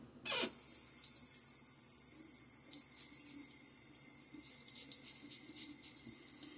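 A tap opens and water runs steadily from a faucet into a sink or onto a shaving soap puck, a close, continuous hissing splash lasting several seconds after a sharp start.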